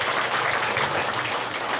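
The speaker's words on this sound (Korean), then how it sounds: "박수 한번 해주십시오" An audience of elderly people claps at a charity concert and noodle feast in a senior welfare center, producing a brief, even wash of applause.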